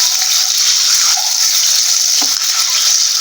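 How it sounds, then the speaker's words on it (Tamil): Eggs for a potato egg curry fry in a hot pan, giving a loud, steady, close sizzle with a faint scrape near the end. "முட்டை பார்த்தீங்கன்னா போட்ட உடனே லேசாக திருப்பி விட்டுருங்க."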